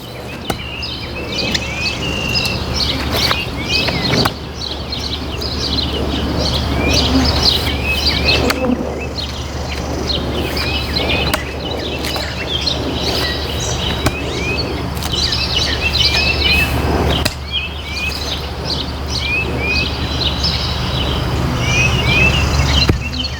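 Around 6 a.m. outdoors, insects buzz steadily in a thick, constant hum, with scattered bird chirps and tweets over it and no talk.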